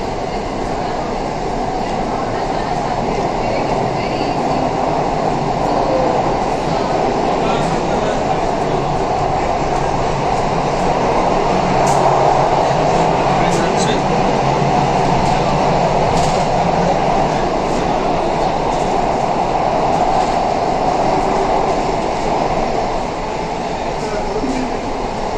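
Kolkata Metro Green Line train running between Sealdah and Esplanade, a steady, loud rumble of wheels and car noise throughout the ride, with faint murmurs of people in the carriage.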